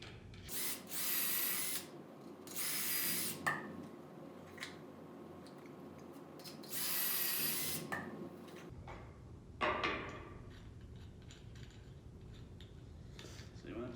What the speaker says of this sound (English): I'm going to drill a couple holes in from the top, a couple holes into the side on this one